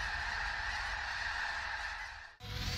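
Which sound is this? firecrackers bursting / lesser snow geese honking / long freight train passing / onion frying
lesser snow geese honking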